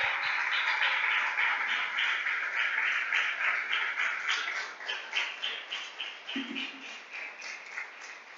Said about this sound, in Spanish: Dele un aplauso al Rey de Gloria